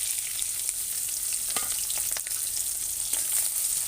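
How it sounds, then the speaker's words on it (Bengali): Chopped onion and green chilli sizzle steadily in hot oil in a kadai, a constant bright frying hiss with a few soft stirring clicks, close and unbroken, no voices. "পেঁয়াজ কুচি আর লঙ্কা কুচিটা ঢেলে দেবো।"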